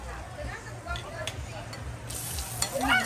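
Garlic sautéing in a pan for chop suey, a steady low sizzle with scraping stirs and occasional clinks, with voices talking in the background.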